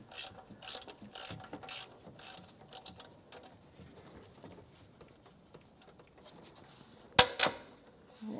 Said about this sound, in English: And I'm going to take that nut right off so that I can get to the actual stud holding the upper intake on.